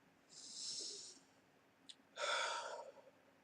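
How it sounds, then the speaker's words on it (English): A slow, deep breath drawn in and then let out, a soft airy inhale followed after a brief pause by a longer, fuller exhale, close and quiet with no talking. "And just take a deep breath."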